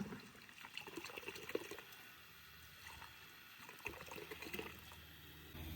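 Water splashes and sloshes as a medicine bottle is rinsed by hand, a quiet, uneven run of pouring and swishing with small gurgles.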